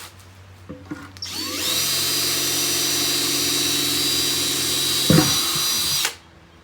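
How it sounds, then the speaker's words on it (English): A power drill with a 9/16 bit spins up and whines steadily for several seconds while boring drainage holes into the bottom of a bucket, with a short rattle before it winds down and stops. "take a 9/16 drill like I've got here, and start drilling your holes in the bottom"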